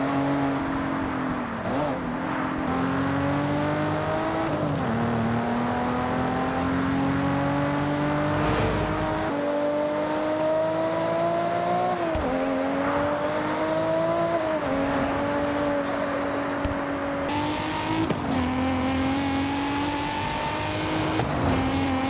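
In Forza Horizon 6, a car engine revs repeatedly, the tone rising through the gears and then dropping on each shift across a long, loud, continuous run with no talking.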